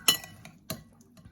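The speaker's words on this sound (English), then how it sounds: "I'll just mix that around and get a nice handful out." Chopped salad is tossed in a bowl with a utensil, giving two sharp clinks a little over half a second apart, followed by softer scraping rustles, close and clear, with no talking.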